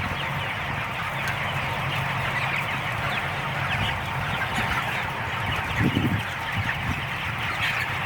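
A dense flock of chickens at harvest time clucking continuously, a steady crowded murmur of many birds close by with occasional louder squawks.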